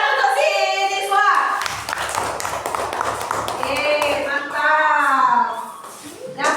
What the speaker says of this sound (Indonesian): Tepuk tangan untuk si Niswa